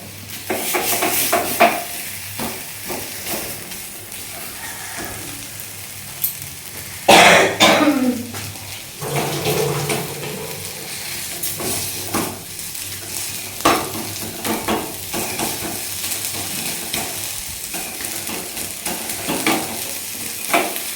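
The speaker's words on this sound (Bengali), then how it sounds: "ব্যাস 2-3 মিনিট নাড়াচাড়া করতে হবে" Banana peel paste is stirred in a pan, soft scraping and light sizzling strokes repeating close by, with a person coughing and clearing their throat partway through.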